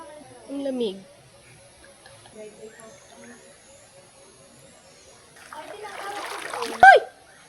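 Water splashing in a cold river during a swim, soft and intermittent at first, then a louder burst of splashing toward the end, with a voice chirping briefly.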